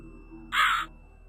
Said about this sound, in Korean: 아 저기 까마귀